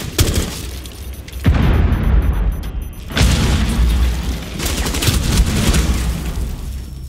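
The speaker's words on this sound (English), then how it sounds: "Frag grenade." A frag grenade blast in Rainbow Six Siege gameplay: a loud, close booming explosion followed by rumbling debris and a second heavy burst, with game interface beeps above.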